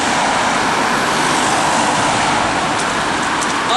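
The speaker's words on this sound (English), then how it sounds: "We're near some cars." Steady roadside traffic roar from nearby cars, a loud continuous broadband wash of tyre and engine noise with no distinct pass-bys and no voices.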